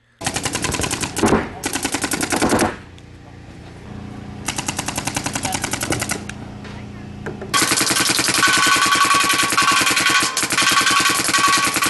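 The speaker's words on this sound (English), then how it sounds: "The shot signature on those guns is absolute magic." A Planet Eclipse Geo paintball gun fires in rapid automatic strings, several fast bursts separated by brief pauses before one long continuous run, loud and close.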